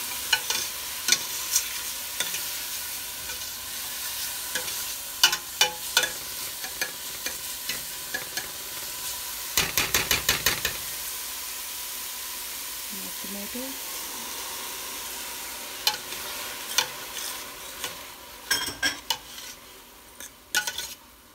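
Green chili and peas sizzle in a pan for a paneer and pea curry, with frequent scraping stirs and spoon taps against the metal and a steady frying hiss underneath; there is no talking.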